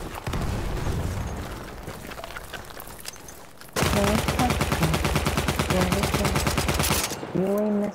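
Battlefield 1 combat with dense, rapid gunfire and heavy blasts from a grenade fight. The firing grows louder and thicker midway, and voices shout briefly near the end.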